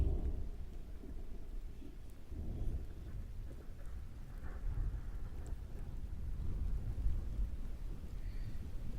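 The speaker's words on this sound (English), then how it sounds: "I think we're getting the thunderstorm that hit you, Omizu." Thunderstorm with distant thunder rolling in low, rumbling swells over a constant soft hiss of rain, faint and far off, with no voices.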